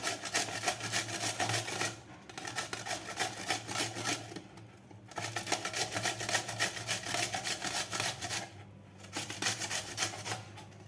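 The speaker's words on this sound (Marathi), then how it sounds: "अशा प्रकारे आपल्याला किस करून घ्यायचा आहे काकडीचा" Cucumber being grated by hand for fasting thalipeeth, a steady rasping scrape in repeated strokes, with two brief pauses between batches and no talking.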